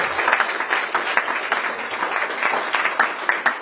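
A church congregation applauds during a sermon, the clapping dense, steady and fairly close, filling the moment on its own without talk.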